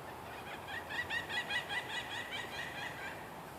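A pileated woodpecker calls in a series of loud, rapid, repeated notes, a rising-falling run over a steady background hiss, heard from a moderate distance in the Sierra Nevada.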